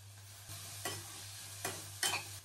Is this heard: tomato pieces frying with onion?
yes